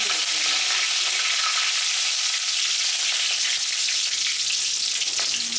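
Fenugreek seeds and curry leaves sizzling in hot oil for a sambar, a loud continuous hiss that stays bright and even from start to finish with no voices.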